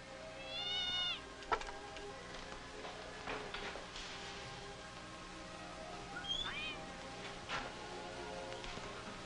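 A cat meows twice at close range, a rising-falling cry near the start and another shorter one midway, over a steady background of faint hiss and scattered knocks.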